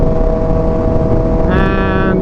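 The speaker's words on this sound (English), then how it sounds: "first wide open to let you guys hear the exhaust" A 2022 Suzuki Hayabusa fitted with a Brocks Pentacarbon exhaust is run at wide open throttle; a loud, close engine drone jumps midway into a sharp rising howl of strong, clear harmonics.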